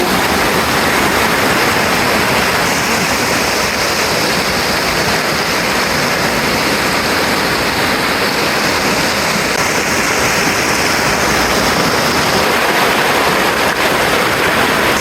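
A strong river current rushes steadily where a fish trap is being set up in Bicol, a loud continuous roar of churning water that fills the whole stretch without a break and with no voices over it.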